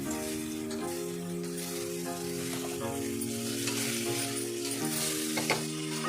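Tomatoes sautéing with mint and coriander in a pan for mushroom biryani, a steady loud sizzle running throughout with faint stirring clinks, no talking.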